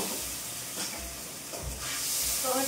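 Tomato paste hits hot oil in a pan for a rohu fish head curry, giving a steady loud sizzle and hiss with a few stirring scrapes, no voices over it.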